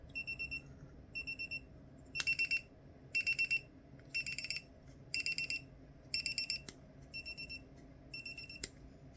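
An F4 Flip Timer Cube alarm beeps in repeated bursts of rapid high-pitched pulses, about nine groups at a steady rhythm, loud and close over a faint room hum.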